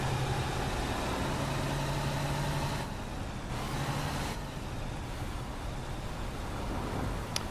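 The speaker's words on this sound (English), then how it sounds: "Can you hear that when I put the brakes on?" A tour bus in a driving simulator game rumbles at a steady idle-like engine drone, with a faint low hum and a brief dip where the brakes are applied.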